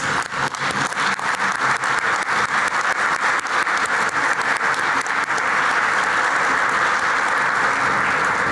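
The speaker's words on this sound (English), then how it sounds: "I would like to ask everyone that I've just called to please stand up so we can give you a round of applause" A room rises into applause for standing city commissioners and board members at a State of the City leadership event, loud, dense clapping from a large audience that holds steady and swells slightly toward the end.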